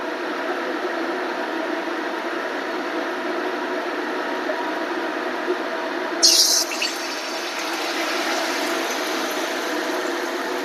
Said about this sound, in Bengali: এবার এখান থেকে একটা মূলোর টুকরো নেবো, নিয়ে এই ব্যাটারে চুবিয়ে তেলে ছাড়বো।